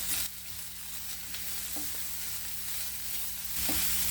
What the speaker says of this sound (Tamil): நல்லா இந்த மிளகாவோட காரம் இஞ்சி பூண்டு வாசனை அதெல்லாம் போகிற வரைக்கும் நல்லா வதக்கிக்கோங்க